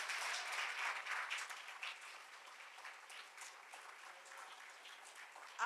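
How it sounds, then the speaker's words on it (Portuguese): A church congregation applauds at a service, a broad wash of clapping that stays fairly steady and then slowly thins over several seconds, heard at a moderate distance with no talk over it. "Você pode dar um aplauso ao Senhor Jesus?"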